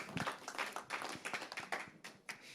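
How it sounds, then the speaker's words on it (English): Scattered clapping from a small audience welcoming a guest at a live ecommerce AMA event, uneven hand claps rising and falling in quick bursts, fairly faint and a little distant. "give her a round of applause"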